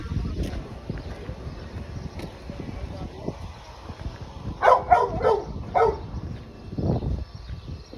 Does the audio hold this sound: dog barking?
yes